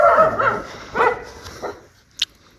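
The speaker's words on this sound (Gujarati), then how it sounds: "કૂતરા ભસી રહેશે" Dogs bark loudly nearby in a few sharp, rising barks near the start, then quieter yips with a high whimper near the end, outdoors at a garden-like spot by a borewell.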